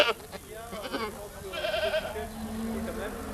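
Goats bleating at a 1992 goat show in Loudun, France, a few wavering cries in the first seconds mixed with nearby speech, with crowd murmur and handling noise in the background.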